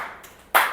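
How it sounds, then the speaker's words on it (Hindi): A guest gets a round of audience applause: after a quiet moment, a burst of clapping from a group starts abruptly and carries on. "सर के लिए एक दफ़ा क्लैप कीजिए, मजबूर नहीं सर, भरपूर तालियां प्लीज़"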